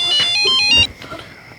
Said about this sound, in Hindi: सुरेखा, कंचन का फोन।